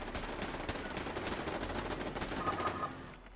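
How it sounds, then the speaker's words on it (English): Laser turrets firing in the video game Fallout 76, a dense rapid stream of crackling shots like automatic gunfire, loud and continuous before trailing off at the end. "Those are my laser turrets up there. Doing laser turret things."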